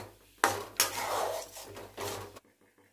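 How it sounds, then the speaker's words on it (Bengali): A spatula stirs and scrapes a drying green pea filling in a pan. Several distinct scraping strokes come close and fairly quiet, then stop abruptly. "আর ভালো করে নেড়ে চেড়ে আরও একটু শুকাবো"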